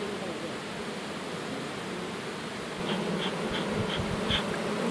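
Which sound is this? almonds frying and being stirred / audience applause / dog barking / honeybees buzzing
honeybees buzzing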